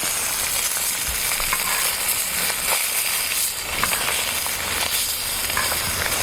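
Perch frying in pork fat in a pan over an open fire outdoors in the snow, a steady close sizzle and crackle with no talk.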